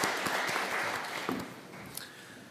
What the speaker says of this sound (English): A round of applause, if we may.